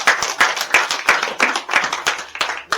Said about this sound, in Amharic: እስቲ ለራሳችሁ አጨብጭቡ